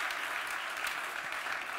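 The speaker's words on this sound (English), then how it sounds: "Ladies and gentlemen, a big round of applause." A conference keynote audience gives steady, dense applause that carries on unbroken and fairly loud the whole time.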